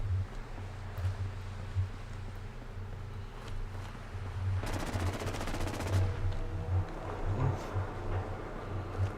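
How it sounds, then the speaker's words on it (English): A battle in Fallout 4, with a burst of rapid automatic gunfire crackling in the middle over a constant low rumble, plus scattered distant shots before and after. "Sounds a battle."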